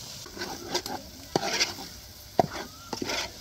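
Spoon stirring masala into mutton gravy in a pot, a few soft scraping strokes with sharp knocks against the pan, near and moderately loud, with faint sizzling beneath.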